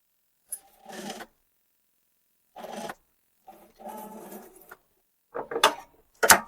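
A sewing machine stitches old denim jeans for a homemade bag, running in several short separate bursts with quiet pauses between them, heard up close.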